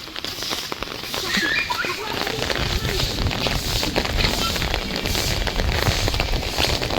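The season's first rain falls steadily in Baramati, a dense broadband patter with wind and crackle, while people talk and laugh nearby throughout.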